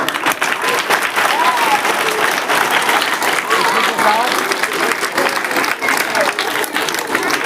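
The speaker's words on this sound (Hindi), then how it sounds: "अब अच्छा लगा ताली बजा दो।" Children and teachers at a school magic show applaud together after a trick, a dense, steady wash of clapping that fills the whole stretch with scattered voices and shouts mixed in.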